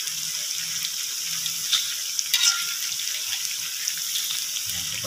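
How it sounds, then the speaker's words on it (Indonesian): Shrimp fritters (bakwan udang rebon) fry in hot oil, giving a steady, fairly quiet hiss and crackle that runs throughout, with a few brief louder pops. "Nah, kita goreng semua sampai selesai ya."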